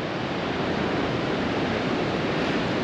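Big swells from the north pound a natural rock jetty near Twillingate, Newfoundland, a constant loud wash of surf and roaring spray with no distinct breaks and no voices.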